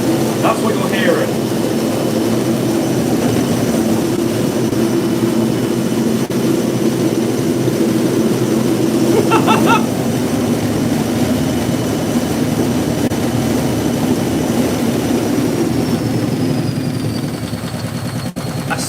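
A Hotpoint 9530 washing machine full of bedding spins hard, a sustained close roar with a high whine on top, broken by a couple of brief rattles and easing slightly at the end.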